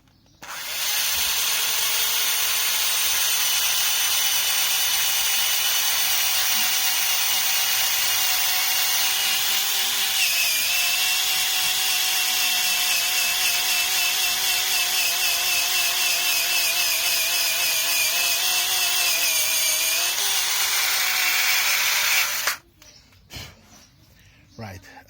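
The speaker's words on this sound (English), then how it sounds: "you just insert the drill into the position where the cut should be, and you just drill through." A cordless hand drill bores steadily through wood, cutting without a saw. Its motor whines loud and close for about twenty-two seconds, the pitch wavering slightly as the bit bites, then stops abruptly with faint handling noise after.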